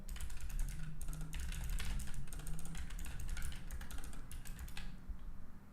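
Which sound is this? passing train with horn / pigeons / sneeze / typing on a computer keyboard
typing on a computer keyboard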